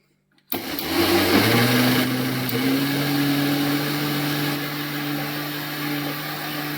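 An electric kitchen mixer grinds chikoo and banana into juice, starting abruptly after a brief silence and holding a loud, steady whirring drone that shifts slightly in pitch as it runs.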